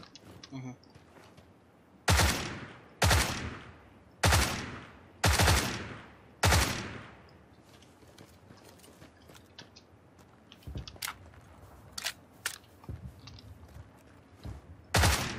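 Gunfire from the video game PUBG comes as five loud, evenly spaced single shots, then quieter scattered distant shots, with a player talking faintly in between.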